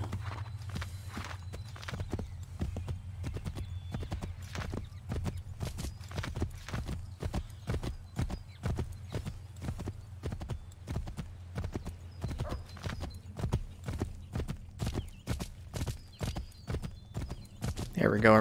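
A horse in Assassin's Creed 3 gallops with a steady, fast drumming of hooves throughout, near and prominent, over a low rumbling game bed, with someone talking over it.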